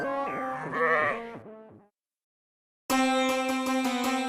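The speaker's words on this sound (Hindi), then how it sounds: "लेकिन ये तो बकरी है।" Two bursts of a goat bleating, loud and close: a wavering, quavering cry that trails off, a short silence, then a second harsh, pulsing bleat.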